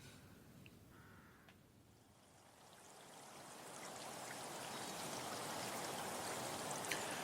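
Waterfall in a radio drama, a soft hiss of flowing water that swells gradually and then holds steady, with a few faint higher ticks and calls over it and no speech.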